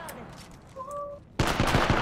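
Gunfire in the Apex Legends video game: after a quiet moment with a short electronic tone, a loud rapid burst of shots erupts at close range and continues to the end.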